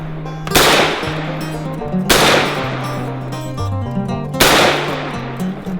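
Three sharp, loud shots from an M1 carbine rifle, a .30 carbine, crack at a range about two seconds apart, each one fading off over a background of music.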